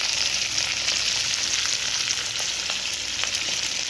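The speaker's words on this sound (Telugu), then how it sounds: "సో పచ్చిమిరపకాయలు వేసేసుకుంటాను." Green chillies fry in hot oil in a pan for a tomato onion chutney, a steady close hiss of sizzling with a few faint clicks, no voices.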